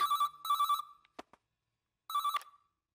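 A telephone rings in short electronic bursts, two quick rings, a pause with a couple of clicks, then another ring, clear and close.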